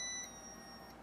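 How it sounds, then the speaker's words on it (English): Shrill electronic beeping from a Westward 1YAY8 1200W inverter's alarm, triggered by undervoltage at its input, rings out clearly in the first instant and then drops to a faint trace over a steady hiss. "then it turns red and it starts beeping"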